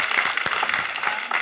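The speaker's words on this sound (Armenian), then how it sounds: "Եկեք ծափարենք Ռուդոլֆին" An audience at a live comedy show breaks into applause, a dense, steady wash of many hands clapping throughout.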